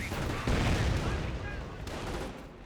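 Artillery blasts and gunfire in Company of Heroes, a heavy boom followed by a dense rattle of shots and rumbling impacts, a sustained battle din with a voice faintly beneath.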